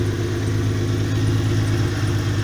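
A Subaru H6 3.0 engine fitted in a VW Caravelle T3 Vanagon idles steadily while warming up, a close, even low hum with a constant rumble and no talk.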